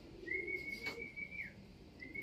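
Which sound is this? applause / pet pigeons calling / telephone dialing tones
pet pigeons calling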